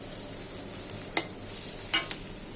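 Onion sizzling in mustard oil in a kadai, a soft steady fry with a few sharp stirring clatters against the pan, close and alone with no voices.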